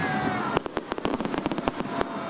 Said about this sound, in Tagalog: Kabi-kabila ang fireworks display at meron pang mga street party.